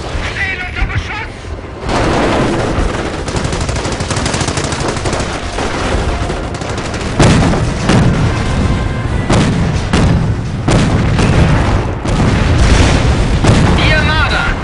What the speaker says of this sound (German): Wir stehen unter Raketenbeschuss!